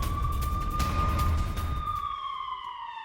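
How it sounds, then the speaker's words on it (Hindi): A steady, sustained air raid alert siren in Amritsar, India wails at one pitch, loud and continuous, then slowly drops and fades toward the end. "अमृतसर में लगातार सायरन बजाए जा रहे हैं"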